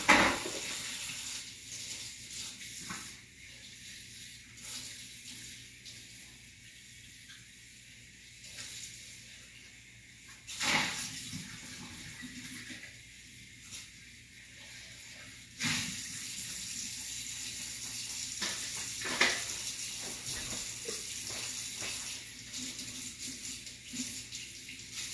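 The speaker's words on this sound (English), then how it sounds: "Just rinsing out the strawberry, which by the way is not crucial." Tap water runs steadily over a strawberry being rinsed, a soft continuous hiss and splash with a few brief louder spurts, close and alone without talk.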